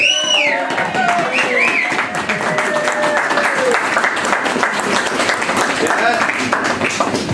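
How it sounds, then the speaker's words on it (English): A crowd at a ribbon-cutting ceremony applauds with dense, continuous clapping that holds steady throughout, while voices and cheering rise over it. "I think he deserves another round of applause"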